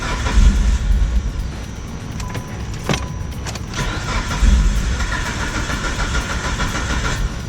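A Mitsubishi Lancer engine cranks over without firing during a fuel pump replacement, the starter turning in two close, loud bursts separated by clicks and small knocks.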